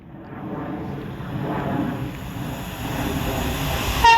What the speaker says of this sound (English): Now passing through is going to be our first proper train of today. It's going to be an Avanti West Coast Class 390 Pendolino.